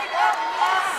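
Crowd noise in a high school basketball gym during a Pickett County at Russell County, Kentucky game, a sustained roar of voices rising and falling over about a second.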